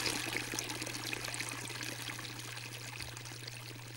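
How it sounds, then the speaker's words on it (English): Water swirls in a vortex cylinder fountain, two rotating, competing currents issuing from delivery points in the base. A steady, loud rushing and churning holds throughout over a constant low hum, with no voices. "The turbulent, rope-like effect is caused by two rotating and competing currents issuing from the water delivery points"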